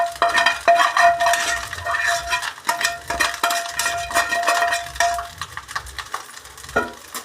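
An egg is stirred into a cooking dish, a continuous run of quick spoon scrapes and clinks against the pan with a faint sizzle underneath, close and busy throughout.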